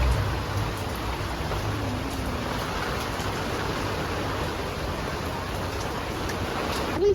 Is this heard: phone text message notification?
no